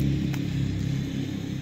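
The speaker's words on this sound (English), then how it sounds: "Are we watching all the cars go by?" Steady low rumble of traffic on a busy road, cars passing at a distance in a continuous drone, heard outdoors without talk.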